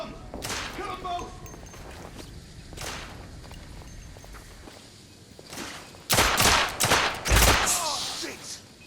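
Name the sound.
gunfire in video game The Order 1886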